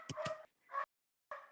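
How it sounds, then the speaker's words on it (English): Dogs bark and yip in a few short, sharp bursts with brief silent gaps, fairly close and clear, with no talk in between. "if you guys can just hear the dogs barking"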